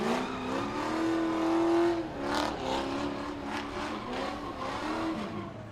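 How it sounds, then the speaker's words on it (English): A Grand Stock race car doing a burnout at Langley Speedway, its engine holding a high revving note before surging and wavering with tire-spinning roar, fairly close and loud with no talk. "Nice burnout by Ricky Derrick"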